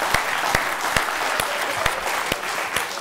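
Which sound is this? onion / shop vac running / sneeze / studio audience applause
studio audience applause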